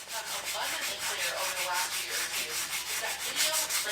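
Sanding a handmade plaster recirculating range hood vent during its final finishing pass: steady, close, rhythmic scraping strokes repeat about every quarter second, continuous with no talk.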